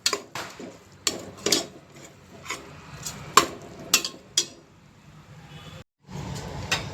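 Whole green chillies with stems removed are stirred in a mutton biryani pot, giving repeated close scraping and clinking of a utensil against the metal pot amid a soft background sizzle, with a brief gap near the end.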